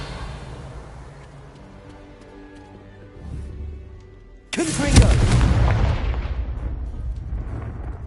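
Confringo, a fire spell in the Hogwarts Legacy video game, bursts into a loud explosive blast about midway, followed by a rumbling, crackling roar that slowly fades.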